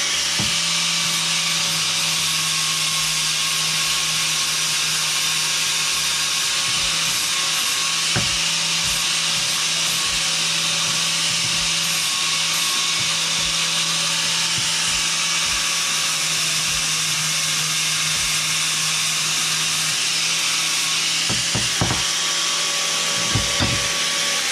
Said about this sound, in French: On va meuler ça et on va essayer de souder ma super béquille